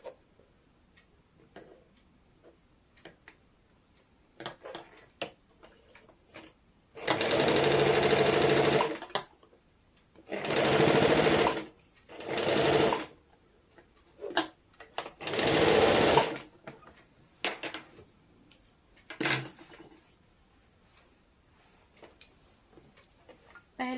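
A sewing machine stitches palazzo trouser fabric in four loud bursts of steady running, each a few seconds long, separated by quieter ticks and handling sounds.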